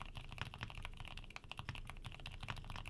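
Rapid, soft keystrokes clatter on a quiet mechanical keyboard with Gateron Mint Smoothie switches, muted clicks in a quick, even typing rhythm.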